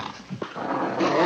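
Dog growling in the 1981 horror film The Howling, a short, close, harsh snarl with a sharp yelp-like burst, followed by rising noisy rumble.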